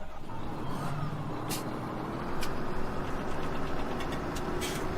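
Tractor engine in Farming Simulator 17 runs at a steady idle, a loud continuous diesel drone with a few brief hissing bursts.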